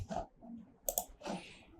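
A computer keyboard gives a few quiet, close keystroke clicks in a short, uneven burst, with soft gaps between taps and no talking.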